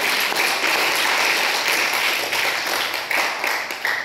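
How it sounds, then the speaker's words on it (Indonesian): A church congregation at a family-restoration service claps in sustained, lively applause, a dense, even patter of many hands filling the room throughout. "Tepuk tangan yang meriah buat Tuhan."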